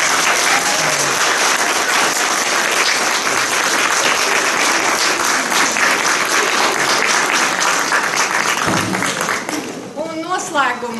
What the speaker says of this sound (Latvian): Aplaudējiet!